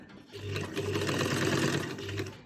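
Sewing machine stitching along the buckram of a salwar cuff, a fast, steady mechanical chatter that runs for about two seconds and is heard close and alone.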